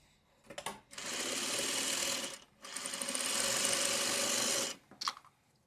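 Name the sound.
sewing machine stitching a quilt seam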